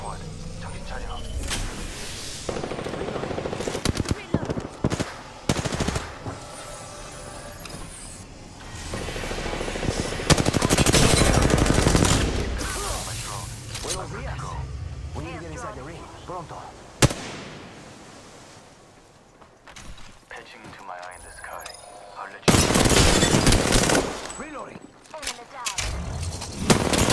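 Rapid bursts of gunfire in the battle royale game Apex Legends, loud clustered volleys breaking out repeatedly with short gaps, mixed with other in-game effects and occasional voice lines.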